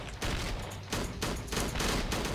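Rapid automatic AK rifle fire from the Slendytubbies 3 video game, several dense bursts of shots in quick succession, loud and close, with no talking.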